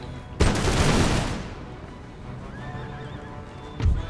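Cavalry horses in a battle video game surge in with a loud rush of hooves and a whinny, then fade under distant musket fire, with another burst of noise at the very end.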